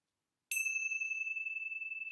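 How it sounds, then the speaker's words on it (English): A single meditation bell is struck once after a moment of silence, giving a clear bright ding that rings on with a long, slowly pulsing sustain, close and alone. "I'm going to close our time together with the ringing of the bells."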